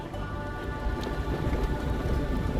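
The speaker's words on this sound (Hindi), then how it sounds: "बारिश शुरू हो गई है।" Light drizzle falling outdoors in the dry mountains near Hanle village, a steady soft patter of raindrops with low rumbling wind noise underneath, continuous and fairly close, no voices.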